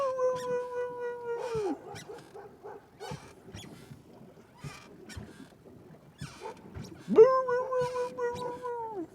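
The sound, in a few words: dog barking and howling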